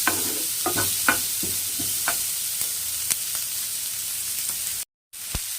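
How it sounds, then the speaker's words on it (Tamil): Chopped onions sauté in a pan with a continuous close sizzle, punctuated by spatula clicks and scrapes, then a brief dropout to silence near the end. "நல்லா அதை வதக்கி விடுங்க."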